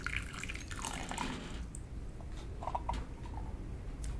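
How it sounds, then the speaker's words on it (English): Hot water trickles and splashes into small teacups to warm them while brewing Oriental Beauty tea, with light drips and clinks at a moderate distance. "I'll use the hot water to warm up my teacups"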